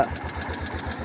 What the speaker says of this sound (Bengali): ইঞ্জিনটা স্টার্টে রয়েছে দেখেন, একদম স্টার্টে রয়েছে ইঞ্জিনটা